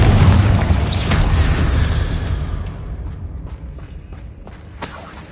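A Confringo fire spell explodes in Hogwarts Legacy with a loud, heavy boom that rolls off into a fading rumble, followed by a few sharp pops and small crackles.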